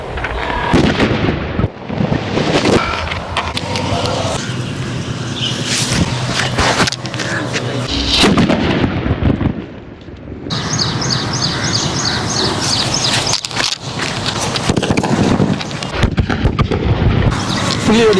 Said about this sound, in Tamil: ஃபர்ஸ்ட் வெடி வச்சுக்கலாம்